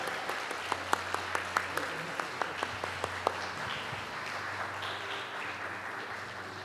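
A church congregation applauds during a service, with several sharp distinct claps standing out early over a softer bed of clapping and low murmuring voices.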